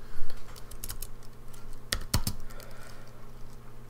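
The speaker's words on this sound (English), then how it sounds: "And we're going to do that by typing in" Clicks of a computer keyboard being typed on during a Raspberry Pi GPIO push-button coding tutorial, scattered sharp keystrokes with a louder close cluster near the middle, heard alone without talk.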